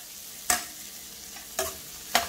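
Green chillies and asafoetida sizzle in hot oil in a pan, with a soft steady frying hiss. Three sharp scraping stirs of a spatula sound close, at uneven intervals.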